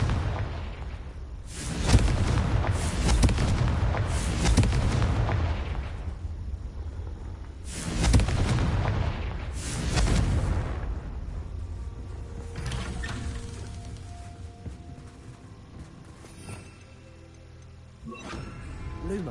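Bombarda and Confringo spell blasts in the Hogwarts Legacy video game: heavy booms arriving roughly in pairs, four loud bursts with rumbling tails, then a quieter stretch of low ambience.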